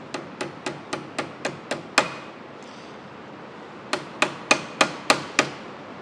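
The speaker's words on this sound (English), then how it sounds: "there's a pin that will drive through there and pin it all in place" A pin is hammered into place in a metalworking setup: two runs of sharp, evenly spaced hammer blows, about eight strikes, then a pause, then six more, close and crisp.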